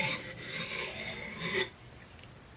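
Steel blade of a Snow-Tac knife rubbed in small circles against a sharpening stone along its primary grind, a close continuous rasping scrape for about one and a half seconds, then a quieter pause and a brief final scrape.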